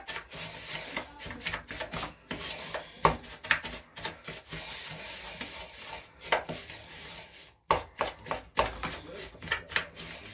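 Dry ingredients, including grated parmesan, are mixed in a bowl for homemade turkey Milanese escalopes, giving a stream of scraping, rubbing knocks with irregular sharper taps, close and fairly quiet, with no talk.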